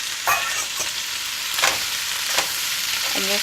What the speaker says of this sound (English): And you fry this up.